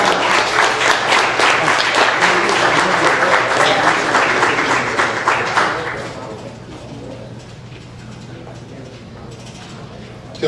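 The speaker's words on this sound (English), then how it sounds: "Can we give her another clap, please?" Audience applause after a performance at a Hyde Park music event, a dense wash of clapping that holds loud for about six seconds, then thins to scattered claps and crowd murmur.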